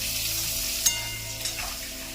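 Potatoes and pointed gourd sizzle steadily in a pan, a constant hissing fry with a couple of faint utensil clicks, close and moderately quiet with no talking.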